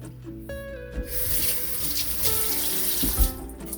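Hands are washed under a running kitchen tap, a close steady hiss and splash of water with light rubbing.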